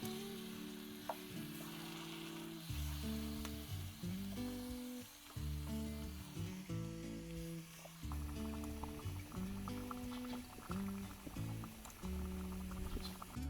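Chopped tomatoes sizzle and crackle in a pot of South African tomato lamb stew, a steady frying hiss running throughout beneath prominent background music.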